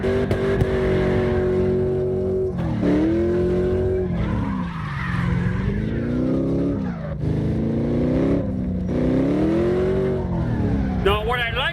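In CarX Drift Racing Online, a drift car's engine revs up and down in looping surges, with tire squeal and skidding mixed in throughout. The sound stays loud and close from start to finish.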